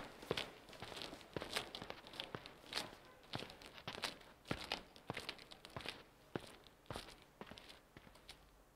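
Footsteps crunch in a steady, uneven rhythm of crisp, crackly steps, close and fairly quiet, with no talking.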